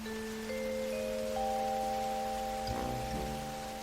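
Cartoon rainfall, a steady soft hiss of rain beneath sustained musical tones, then a brief louder rumble near the end.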